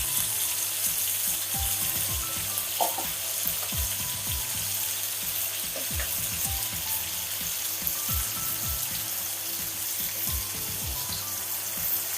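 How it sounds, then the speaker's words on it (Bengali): Ramsos fish frying one by one in hot oil on a tawa, a continuous bright sizzle with scattered pops and crackles and occasional clinks, steady and close for the whole stretch with no voices. "এখন আমি মাছগুলো ভেজে নেব একটা একটা করে।"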